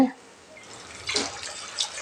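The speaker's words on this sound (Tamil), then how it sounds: "2 டம்ளர் தண்ணி சேர்த்தியாச்சுங்க." Water is poured into a clay pot of chicken biryani, a short, close splashing gush, with a few softer trickles afterward.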